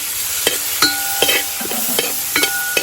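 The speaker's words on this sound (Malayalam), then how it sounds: "തക്കാളിയും കൂടി ഇട്ട് നമുക്ക് നല്ല രീതിയിൽ വഴറ്റിയെടുക്കണം" Tomatoes are being stirred and sautéed in a pan for fish curry, giving a steady sizzle broken by repeated sharp scrapes and clinks of a spoon against the pan, with no talking.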